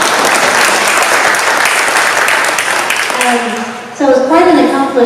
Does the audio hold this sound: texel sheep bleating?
no